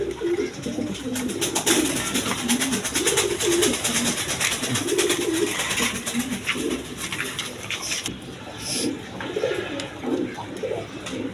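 Tulip pigeons at a pigeon market, cooing continuously and fairly loudly close at hand over a dense, noisy background bustle.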